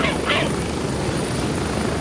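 A helicopter in the Gray Zone Warfare video game gives a loud, close, steady rotor-and-engine roar throughout, with a couple of short higher-pitched bursts near the start.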